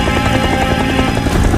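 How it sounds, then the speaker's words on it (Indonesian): A helicopter's steady rotor chop and engine drone fill the sound throughout, loud and continuous with a dense pulsing rhythm. "Mereka naik ke dalam helikopter dan perlahan terbang menjauh meninggalkan kota zombie yang kini sunyi dan"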